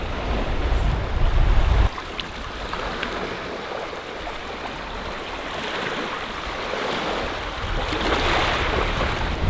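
Sea surf on the Cornish coast washes in as a broad continuous rush, with wind buffeting the microphone in bursts, louder at the start and swelling again near the end, no speech.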